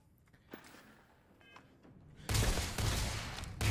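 Old world rifle fire in Starfield: quiet clicks and handling at first, then loud, dense bursts of gunfire that keep going to the end.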